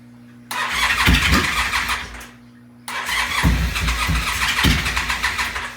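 A motorcycle, the gold bike on its first start, cranks and fires twice in a row, each time catching into a rough, close, loud idle with uneven chugging, separated by a short drop to silence; no talking.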